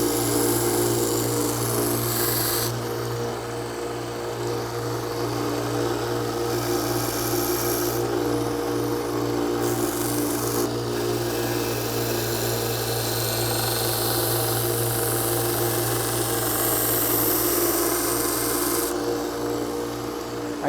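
A belt sander shaping a wooden bracket foot for a small box, a loud continuous motor whine and belt hum with a steady abrasive rasp that shifts slightly as the wood is pressed on and lifted, no talk.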